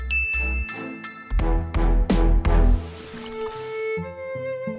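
A bright synthesized jingle of chiming dings and tinkling tones, ending in a sustained bell-like note; no voices.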